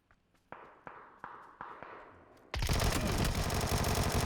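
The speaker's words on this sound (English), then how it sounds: "I hear gunshots, I'm running." Gunfire in the video game PUBG: a steady series of about six sharp shots at regular intervals, followed by a sudden loud, dense burst of noise filling the rest of the moment.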